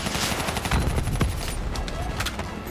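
Sustained machine gun fire from a warlord enemy in the Call of Duty Black Ops 3 campaign, a dense rattling burst with sharp cracks and booms mixed in, loud and continuous for nearly three seconds with game effects around it.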